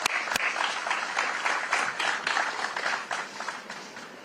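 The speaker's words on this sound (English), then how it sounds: "An applause." An audience claps at a political event with Texas Governor Greg Abbott and a visiting governor. The applause is dense and steady with a few sharp individual claps near the start, then fades slightly toward the end.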